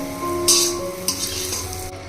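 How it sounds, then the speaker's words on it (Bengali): Bitter gourd slices fry in hot oil in a wok, a steady close sizzle with brief louder crackling bursts as the pieces are stirred and turned. "এইভাবে করে একটা একটা করে সব সুন্দর করে ভেজে নিতে হবে"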